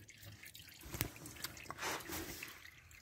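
Engine oil dripping from the drain hole of a 2018 Ford EcoSport during an oil change, faint, sparse drips falling irregularly against a quiet background.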